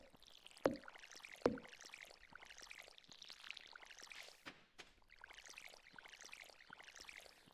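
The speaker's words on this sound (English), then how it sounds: "I didn't water today, did I?" Watering crops with a watering can in Stardew Valley: a steady pouring, trickling water sound runs throughout at moderate level, broken by a couple of sharp plopping clicks early on, with no talking.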